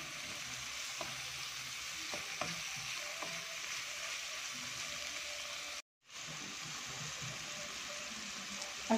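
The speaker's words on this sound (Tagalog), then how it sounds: "Haluin po natin." Bitter gourd, ampalaya, fries in a pan with a steady loud hissing sizzle while a utensil occasionally taps and stirs, close up, with a brief dropout partway through.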